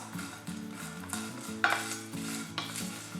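Fennel seeds crackle and sizzle as they roast in a hot pan with scraping stirs, steady low sizzling under occasional louder clinks of a utensil, close and alone without voices.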